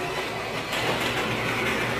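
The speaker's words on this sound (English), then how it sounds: "It's a train. The Cargo Express." Cargo Express train ride game in a family pizza arcade, giving a steady, loud rumbling train-like noise with rhythmic rattle, blended with constant arcade din.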